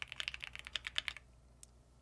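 Rapid typing on a Bubble 75 mechanical keyboard, a close run of crisp, clicky keystrokes in an uneven rhythm that stops after about a second, followed by one last faint tap, with no talking.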